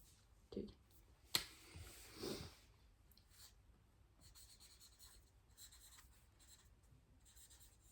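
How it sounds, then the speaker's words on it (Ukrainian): A pen scratching across paper in soft, faint strokes, with a few louder clicks and rustles near the start and intermittent quiet writing sounds afterward, no speech. "Я за себе пишу, ти за себе."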